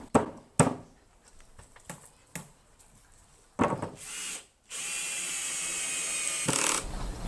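A power driver sinks screws to mount a varnished wooden clothesline outdoors: a series of clicks and ratcheting knocks, then a loud sustained whirring drive of about two seconds that rises near the end, close and without talk.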